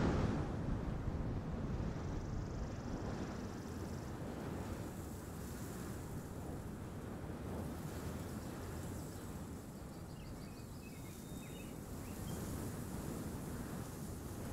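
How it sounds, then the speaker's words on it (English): A game sound-design wind layer built in Unity and Wwise, intensifying as the listener rises higher, blows as a steady, dense rushing roar throughout with no pauses. "the higher up the listener is, we're going to hear a more intense wind layer"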